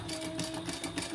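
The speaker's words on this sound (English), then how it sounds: "let's sew that together" Sewing machine stitching fabric, a brief steady mechanical whirr with a rapid needle rhythm, close and moderately loud.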